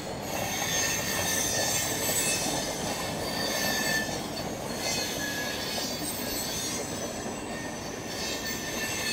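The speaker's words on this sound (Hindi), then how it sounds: "तो ये है चंडीगढ़ कालका वाली लाइन जिसमें कालका शताब्दी एक्सप्रेस का अराइवल जो है बस होने वाला है अम्बाला कैंट में।" The Kalka Shatabdi Express arriving at Ambala Cantt station, a continuous loud rumble of railcars rolling past with steady wheel noise and faint high squeals throughout.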